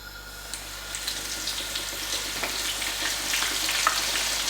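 Chicken pieces frying in a pan of hot oil at home, a steady bright sizzle with scattered crackles and pops that builds slightly in intensity, close and continuous with no talking.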